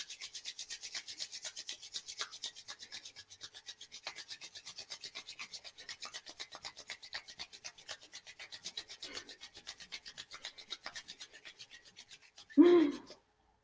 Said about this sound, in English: Rub your hands together quickly for 30 seconds.